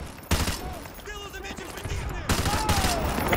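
Gunfire from a Call of Duty: Modern Warfare 2 Remastered firefight, with bursts of shots and loud blasts over continuous battle noise, under in-game radio chatter.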